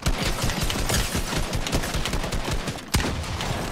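Minigun fire in Fortnite Team Rumble, loud sustained rapid bursts with a dense rattling rhythm, a sharp crack near the end, and no talking over it.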